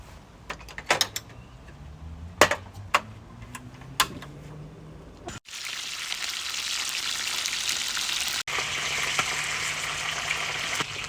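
Several sharp clicks and ticks ring out first, then tilapia in a frying pan starts to sizzle loudly and steadily, a dense hiss that holds to the end with one brief dropout.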